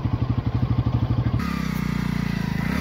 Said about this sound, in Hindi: एक टेम्पू भी आ रहा है अभी गांव की तरफ से, तो इसे भी निकलने देते हैं